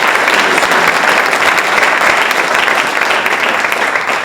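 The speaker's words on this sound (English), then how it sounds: "let's give them one more round of applause" Sustained audience applause fills a scholarship night event hall, dense and steady clapping throughout with no break, loud and close.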